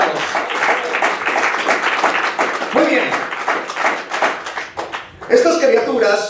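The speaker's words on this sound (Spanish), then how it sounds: "Fuerte el aplauso, amados." A church congregation claps steadily and loudly, a dense stream of hand claps filling the space while a preacher's voice speaks briefly over it.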